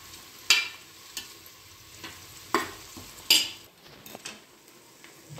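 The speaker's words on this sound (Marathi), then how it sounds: "त्या कांद्यामध्ये आपण हे तेजपत्ते टाकू आणि हे चांगला हलवून घेऊ" Onion and bay leaves fry in a pan, a low sizzle broken by several sharp metallic clinks and scrapes of a spoon stirring against the pan, close and without voices.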